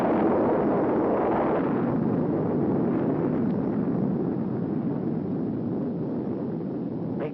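Atomic bomb test explosion in the Nevada desert, a loud sustained roaring rumble that fills the whole clip, steady and broad like a long blast wave with wind-like buffeting, slowly easing toward the end; no talking.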